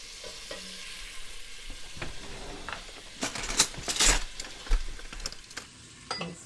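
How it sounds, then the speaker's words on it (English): Flour being stirred into about three tablespoons of melted butter in a pot, soft close sizzling with scraping spoon strokes and a few sharp metallic clinks against the pot, no talk. "And start mixing that with that butter immediately."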